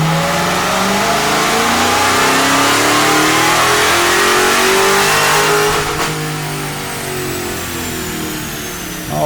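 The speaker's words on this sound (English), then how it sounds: "Now let's get our baseline dyno pulls in current conditions." A supercharged Dodge Hellcat engine roars at full throttle during a pump-gas dyno pull, rising steadily in pitch with supercharger whine before easing off near the end, loud and close throughout.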